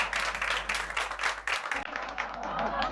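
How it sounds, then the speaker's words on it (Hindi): Studio audience applause on a sitcom set: a burst of brisk, fairly loud clapping that thins slightly partway through, with a low electrical hum underneath and a voice briefly heard. "तालियां!"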